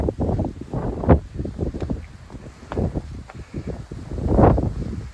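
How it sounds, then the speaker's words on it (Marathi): Strong cold wind buffets the microphone atop Torna Fort, a hill fort, in loud, gusty rumbling bursts that rise and fall throughout. "खूप थंड वारा सुटलेला आहे वरती"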